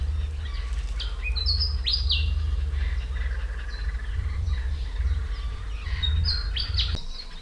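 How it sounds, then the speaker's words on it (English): A sacred kingfisher calls in the bush with short, sharp, repeated chirps, fairly near and clear over a low steady background rumble. "The sacred kingfisher is a seasonal visitor to the southern states"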